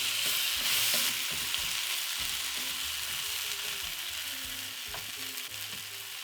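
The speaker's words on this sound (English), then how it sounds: "I will add some curry leaves, and I'm also going to add a heaping of my cilantro stems." Curry leaves and cilantro stems frying in a pot for a green gram lentil stew, a loud continuous sizzle with soft stirring knocks throughout.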